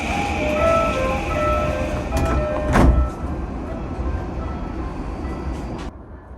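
A JR East electric commuter train departing Nippori Station rumbles steadily from inside the carriage, with a brief louder clatter partway through before the running noise settles.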